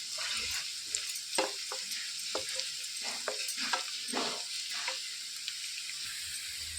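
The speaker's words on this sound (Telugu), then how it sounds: "మంచి కలర్ వచ్చే వరకు రోస్ట్ లాగా చేసేసుకోవాలండి ఉల్లిపాయలు అనేవి." Onions frying with salt in a pan make a soft continuous sizzle punctuated by a series of spatula scrapes in the middle stretch, quiet and close with no voices.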